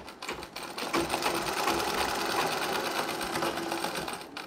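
A sewing machine stitching a Nauvari saree in a sewing class runs in a loud, steady, rapid whirring rattle with no pauses, close up and alone.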